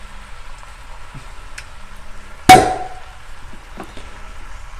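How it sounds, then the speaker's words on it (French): A single sharp glassy clink of beer bottles, the beer to be added to a Flemish carbonnade stew, stands out against quiet background noise, with a few faint taps around it. "C'est le bruit de la bière qu'on va ajouter juste après."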